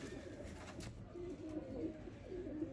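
A flown breeder pigeon coos in low, muffled rolling phrases, quiet and close, with faint background noise.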